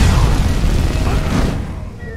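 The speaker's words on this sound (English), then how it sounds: "Ice magic against fire magic." Ice and fire magic spells collide in Skyrim VR, a loud, dense roaring blast of rushing noise with a heavy low rumble that holds steady, then gradually thins and fades toward the end.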